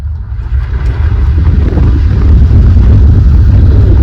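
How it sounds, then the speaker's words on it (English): A steady, deep Mercedes-Benz W126 engine rumble with heavy low-end drone and some wind buffeting, continuous and loud throughout. "This car has it all, and it doesn't sound half bad either."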